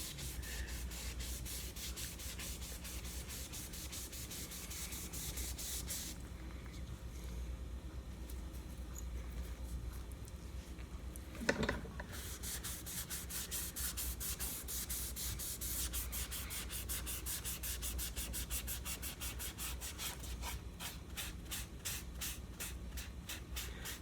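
Wood stain rubbed by hand onto the neck of a Vega Tubaphone tenor banjo, a steady soft scrubbing and rubbing texture that runs continuously at close range, with one brief louder knock partway through.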